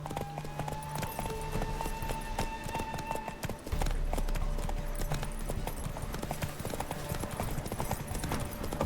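Hooves of a galloping horse in the video game The Witcher 3: Wild Hunt pound out a steady, rapid clip-clop, close and continuous under a busy game soundscape.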